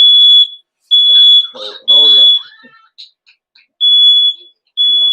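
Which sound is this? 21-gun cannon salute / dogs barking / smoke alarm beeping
smoke alarm beeping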